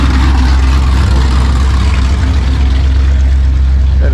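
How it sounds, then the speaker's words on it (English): An old El Camino beater, with voltage and starter trouble and a suspect throttle position sensor, roars loud and close, a dense, steady low engine rumble held high without easing. "she wants to rev high again"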